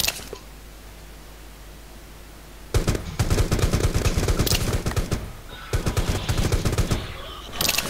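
Gunfire rings out in the battle-royale game Rules of Survival. After a quiet stretch, two loud bursts of rapid automatic shots follow, separated by a short pause, with no voices over them.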